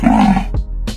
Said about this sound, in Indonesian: Mereka bisa mengaum seperti singa dan harimau, meski tidak terlalu keras dan panjang.